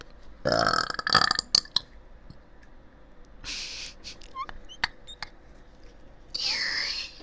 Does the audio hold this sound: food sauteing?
no